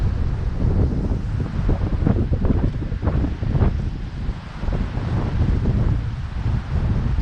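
Wind blowing outdoors on a breezy, partly cloudy day, a loud continuous rumble of gusts buffeting the microphone, with no voices.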